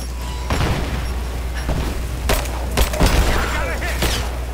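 Bursts of gunfire and booming shots from a Rise of the Tomb Raider combat fight, several loud sharp cracks in close succession over a steady low rumble, with someone talking over the action.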